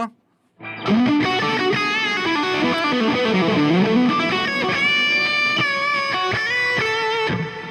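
Electric guitar notes played through a Fractal unit's plex reverb ring out with a lush, spacious reverb, sustained chords and bends washing together after a brief silent start.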